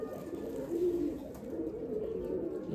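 A red-necked tournament pigeon with a closed tail coos softly and continuously, a low, steady murmur close by in a quiet room.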